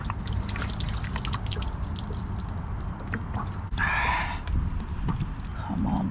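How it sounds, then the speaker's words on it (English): Water gushes out of the drain of a Dometic RV water heater once the old plug is unscrewed, a brief rushing pour that rises over steady background noise, close by and fairly loud. "The water just comes out really fast."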